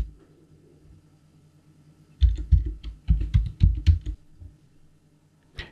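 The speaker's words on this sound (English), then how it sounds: "Enter the password that you set up for your user" A password tapped out on a computer keyboard, a quick cluster of close, crisp key clicks after a quiet pause, ending with one last isolated keystroke.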